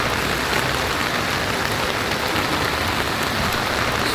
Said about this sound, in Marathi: तर चाटुचकच्या इथे पण पाऊस चालूच आहे, खूप जोरात आहे.